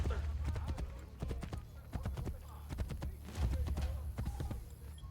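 Horse hooves clip-clop in Assassin's Creed Brotherhood, a steady trotting rhythm of sharp hoof strikes over a low, busy game background, with a voice speaking faintly at times.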